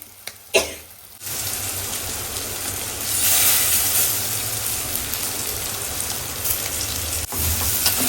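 Prawn fry sizzling steadily in a pan, a bright continuous frying hiss after a brief thump at the start, close and moderately loud with no talk over it.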